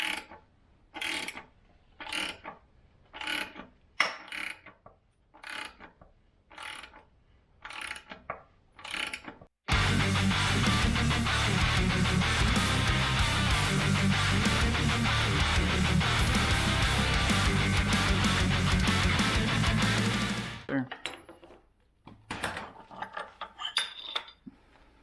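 A bushing press kit forces a polyurethane differential bushing out of a Challenger's differential: sharp ratcheting clicks at a steady pace, then about ten seconds of loud continuous mechanical grinding and whirring, followed by more scattered clicks.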